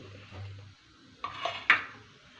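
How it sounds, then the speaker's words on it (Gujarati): A kadai being set down on a kitchen stove, a few sharp metallic clanks and knocks of the pan against the burner, close and brief after a quiet low hum. "કઢાઈ રાખીશું"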